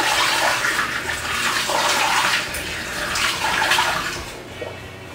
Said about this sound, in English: there's my water and sugar mixture